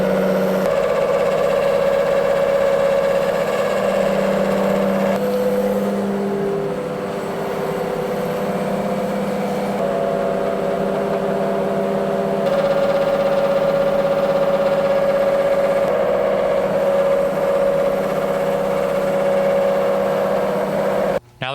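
A Lion lathe running at 700 RPM while facing a part, giving a steady loud mechanical drone with a tonal whine that shifts pitch as the cut changes, continuous with no talking.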